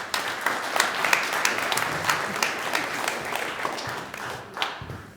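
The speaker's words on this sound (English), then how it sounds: "round of applause for Aisha" Audience applause at a bay conference, a steady crowd of clapping with distinct individual claps standing out, sustained for several seconds and slowly thinning toward the end.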